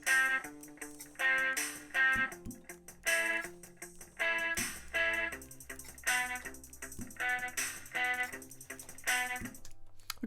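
Electric guitar and drum loops arranged in GarageBand on a Mac, playing a steady repeating rhythmic pattern of plucked notes and beats at a fairly quiet level.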